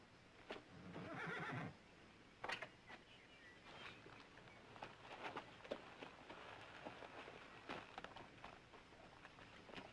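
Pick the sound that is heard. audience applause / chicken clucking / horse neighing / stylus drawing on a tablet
horse neighing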